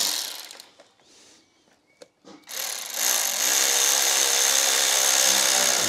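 A power tool whirs steadily and loudly, with a few faint clicks before it starts, while tightening a hose clamp on a BMW power steering fluid reservoir.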